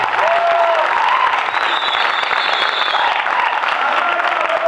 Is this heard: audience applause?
yes